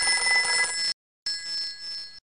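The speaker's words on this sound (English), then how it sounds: "That's a phone. That's about as good as I could do in the game Dreams." A telephone rings inside the video game Dreams: two bright electronic ring bursts separated by a short silence, loud and clear with no talk.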